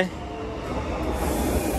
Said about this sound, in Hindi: स्पेन की मेट्रो दिखा देते भाई होती कैसी है